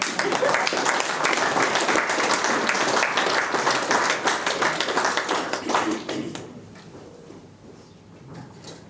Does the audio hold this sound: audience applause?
yes